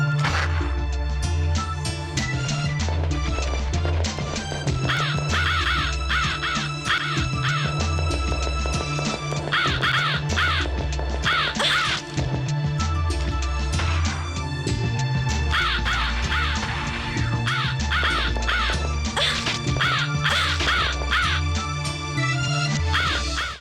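Crows in The Ring: Terror's Realm video game caw repeatedly in harsh bursts over a steady throbbing low backdrop, the calls clustered and recurring throughout.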